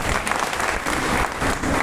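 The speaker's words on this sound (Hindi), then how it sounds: "एक बार चेहरा पर मुस्कुराहट लाते हुए ताली बजाइए सर।" An audience claps in a hall, a loud, dense burst of many hands applauding continuously through the short stretch without any voices.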